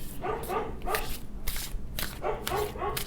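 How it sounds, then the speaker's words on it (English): A dog barks repeatedly in short bursts at another dog out on the street, close and fairly loud, with sharp yelping barks in clusters and brief pauses between them. "That is her bark when there's another dog on the street."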